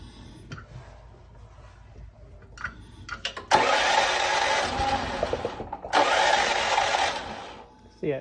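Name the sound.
Champion generator failing to start after natural gas conversion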